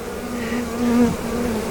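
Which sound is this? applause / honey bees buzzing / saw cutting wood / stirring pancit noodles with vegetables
honey bees buzzing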